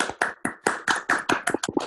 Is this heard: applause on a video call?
yes